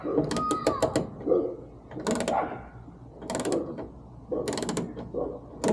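Ratchet loosening a bolt during a hood lift installation on a Ford Focus RS, four close bursts of rapid clicking pawl strokes separated by short pauses, fairly quiet, with no talking.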